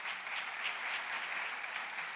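Church congregation applauding, a dense, steady wash of many hands clapping together at moderate volume, sustained without a break from start to finish.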